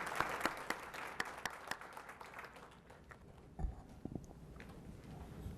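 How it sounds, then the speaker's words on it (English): Audience applause at an Omaha Public Schools Board of Education meeting: scattered, fairly soft clapping that thins out after a few seconds into sparse claps and a couple of low thumps in a quiet room. "can we give a round of applause for the South High JRRTC as well?"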